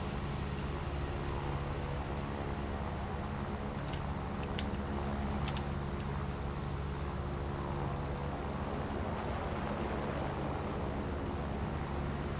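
A Yak-9U fighter plane's piston engine drones in War Thunder, damaged and missing an aileron, a loud, unbroken propeller roar with steady low harmonics for the whole stretch.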